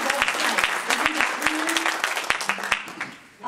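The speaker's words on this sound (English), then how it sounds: "Let's applaud them." Applause from the audience at a Drupal camp keynote, lively clapping with sharp individual claps standing out, fairly loud and close, tapering off near the end while a faint voice tone runs underneath.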